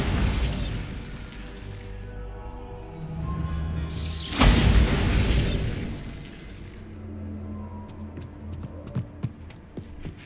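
A Bombarda blasting spell goes off in Hogwarts Legacy as one loud, close boom that rolls into a rumbling roar and debris clatter, over steady game ambience and music.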